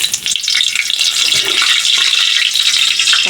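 Cinnamon, cardamom and bay leaf sizzle in a spoonful of hot ghee, a steady bright crackle that fills the space close by without pause, with no voices over it.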